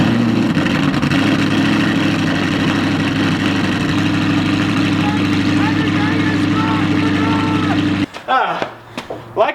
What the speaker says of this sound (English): So this is a cold startup on a 2009 straight piped Audi R8 with new air filters.